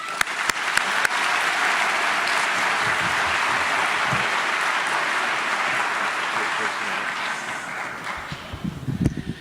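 Sustained applause from a graduation audience welcoming Jon Heymann at RCSA, a loud dense clapping wash with a few sharp near claps at the start, fading slightly toward the end.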